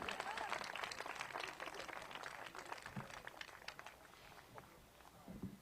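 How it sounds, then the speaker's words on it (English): Crowd applause for Senator Wyden at a rally, a scattered patter of clapping that starts fairly full and thins out over several seconds, with faint voices mixed in. "That wasn't a loud enough applause for Senator Wyden."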